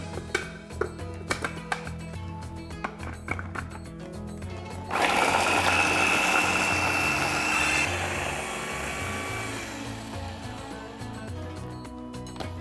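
An electric chopper blitzes candlenuts, ginger and other hard aromatics, starting abruptly as a loud, close, steady motor whir with a high-pitched whine that slowly eases as the mix breaks down. Sharp clicks and knocks of handling come before it.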